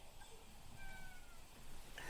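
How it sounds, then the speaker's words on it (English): A cat meows in a drawn-out, wavering cry, fairly close, followed by a brief second call at the end over a low background hum. "Shut up, Kitty."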